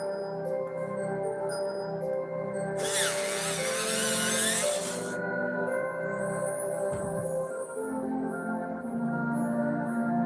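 A small electric sharpener grinds a colouring pencil in a brief close whir lasting about two seconds, set against soft background music.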